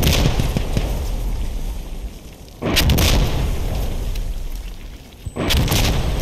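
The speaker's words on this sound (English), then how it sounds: "Some fire support obviously has been called in." Artillery fire support lands in the Insurgency Sandstorm shooter game: two heavy booming blasts with rumbling roars that fill the scene, then fade, before a third impact hits near the end.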